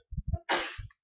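A single sharp sneeze, close and abrupt, with a burst of breathy noise, bracketed by low muffled sounds just before and after.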